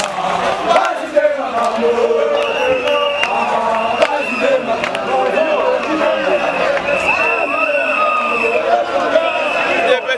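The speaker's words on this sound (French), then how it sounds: "vous avez vu la foule est venue suivre son leader" A large crowd surges along behind its leader at a street gathering in Congo, with a loud, dense wash of voices, shouts and footsteps that continues throughout.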